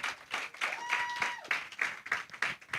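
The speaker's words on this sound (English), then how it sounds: "Please, let's keep clapping for them as they come." Audience clapping for a couple as they come forward, a short burst of scattered hand claps with a few faint voices mixed in.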